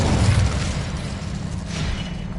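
Incendio fire spell cast in Hogwarts Legacy, a continuous whooshing roar of flame with dense low rumble, loud and steady throughout the short burst.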